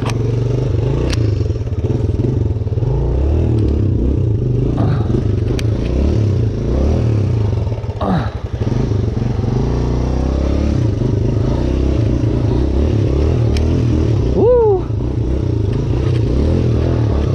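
A dirt bike engine revs loud and steady on beach sand, its rear wheel spinning and scrabbling for grip, with scraping and clattering over the drone.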